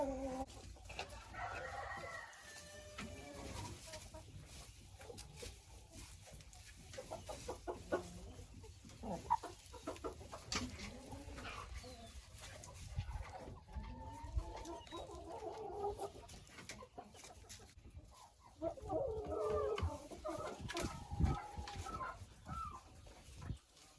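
Hens cluck and chatter near a feeder in a backyard laying flock, with intermittent bursts of calls and a distant rooster crow, fairly faint overall with scattered clattering noises between.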